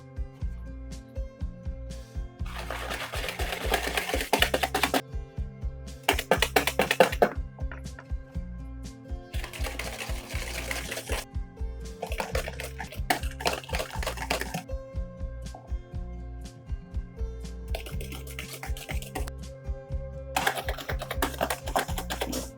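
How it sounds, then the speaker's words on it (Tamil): Egg whites being beaten with powdered sugar for a sponge cake: a steady, rapid ticking of whisking against a bowl, with repeated louder bursts of vigorous beating, close by and without talk. "இதை நம்ம கொஞ்சம் கொஞ்சமாக சேர்த்து திரும்ப நல்லா நம்ம அடித்து விட்டுக்க போகிறோம்"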